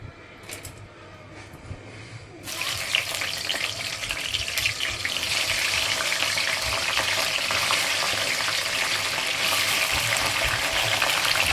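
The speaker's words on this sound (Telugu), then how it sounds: "మేమైతే ముందుగా వేయించుకొని అప్పుడు నూనెలో వేస్తామండి." Stuffed brinjal is fried in oil: a sudden loud, hissing sizzle starts after a couple of seconds of quiet clatter and then holds steady and close.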